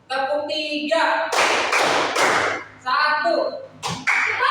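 A classroom of students claps three times in unison on a teacher's count, sharp group claps spaced about a second apart with brief chatter between.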